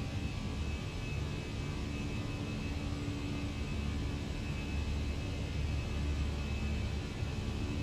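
Fenix A320 airliner climbing in Microsoft Flight Simulator 2020, a steady wash of jet engine roar with a constant hum and faint tonal whine, unbroken and even throughout.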